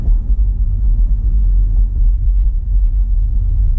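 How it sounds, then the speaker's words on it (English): Big trucks driving down Williams Lake Road, a loud continuous low rumble of heavy engines and tires close by, steady throughout with no talking. "big trucks going down Williams Lake Road right now"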